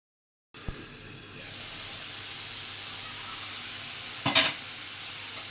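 Food set to cook in a pan on a home stove, a soft steady hiss of frying after a brief clatter, with a short louder sizzle or scrape toward the end.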